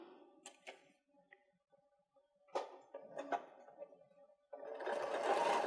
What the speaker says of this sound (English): let the machine do the work, and I'm just moving the fabric